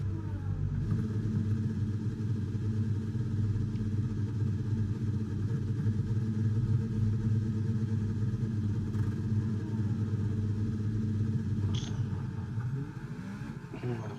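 Formula racing car engine in a racing video game, heard as a steady droning hum from onboard with no talking and slight variation near the end.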